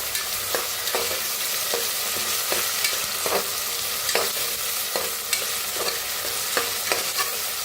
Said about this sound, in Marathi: लसूण अद्रक बारीक करून घेतलेली हिरवी मिरची वाटण टाकूया ह्याच्यात छान असं भाजून घेऊया